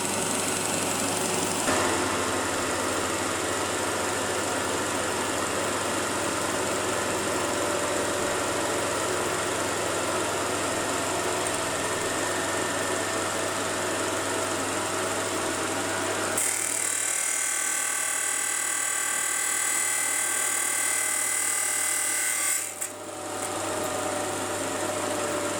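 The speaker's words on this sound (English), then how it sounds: "I'm using the cylindrical grinder with a cut-off wheel and coolant" A cylindrical grinder wet-grinds with a cut-off wheel and coolant, a steady motor hum and high whine that changes character partway through, growing brighter and buzzier before briefly dipping near the end.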